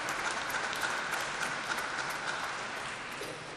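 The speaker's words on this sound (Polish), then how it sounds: "Oklaskajcie się za to sami." A congregation at a Radio Maryja family gathering in the Sanctuary of Our Lady of Ostra Brama claps in dense, sustained applause that fills the room, tapering slightly at the end.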